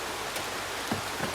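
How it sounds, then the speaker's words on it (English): Steady rain falling outdoors in the Scottish Highlands near a small burn, a soft continuous hiss with a few louder drops, fairly faint and with no voices. "It's raining."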